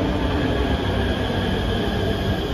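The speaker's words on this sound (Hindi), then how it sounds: "तो आ गई हमारी नमो भारत एक्सप्रेस" A Namo Bharat RRTS train on the Delhi–Meerut line pulls into a station, a loud continuous rail rumble with a high steady whine and wheel squeal running throughout, with no talk.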